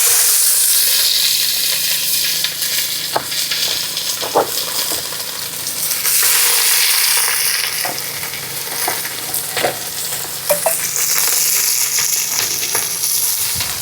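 Onions sizzle and hiss steadily in hot oil and ghee at an outdoor village cooking spot, with occasional stirring clinks and scrapes standing out against a loud, close, continuous frying noise; no talking.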